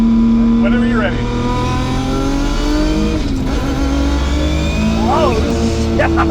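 An 1100hp R32 Skyline GTR street car accelerates hard with its wheels spinning, a loud, sustained engine roar with rising revs and tire noise throughout, close by.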